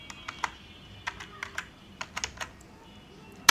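Keys tapped on a computer keyboard while a MikroTik router command is entered, about a dozen quick, irregular clicks close by, ending with a sharper final key press, no speech.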